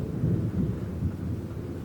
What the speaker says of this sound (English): Can you hear that thunderstorm?